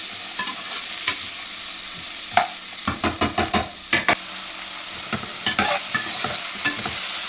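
Onions and peas dry-roasting in a pan without salt or spices, with a loud continuous sizzle broken by a run of sharp, rhythmic spatula scrapes and taps against the pan, close up and with no talking.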